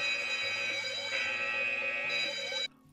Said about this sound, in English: you can also remotely activate an alarm on the phone